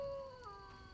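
A faint dog howl from The Witcher 1, a short wavering tone that drifts in pitch and fades over about a second.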